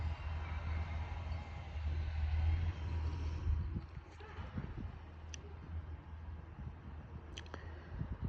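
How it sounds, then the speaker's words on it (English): A big John Deere tractor works a field on rural Florida acreage, its deep engine rumble steady and fairly close for the first few seconds before easing into a quieter, more distant drone. "Big old John Deere tractor there."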